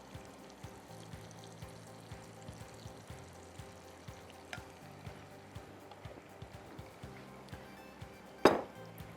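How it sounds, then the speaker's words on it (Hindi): Butter, crushed red chillies and honey sizzling in a pan: a soft, steady frying hiss with faint, regular ticks and one sharper clatter near the end, quiet and close with no talk. "मक्खन डाल दिया एक पैन में।"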